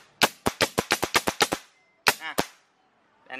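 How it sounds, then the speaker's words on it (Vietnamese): Sharp pneumatic reports from a MAX CN630 pallet coil nailer driving nails, a rapid burst of about ten evenly spaced shots, then two more after a pause and another starting at the end, loud and close with no talk. "mình bắn đinh vào thì mình test không cho anh em, bắn lực không cho anh em"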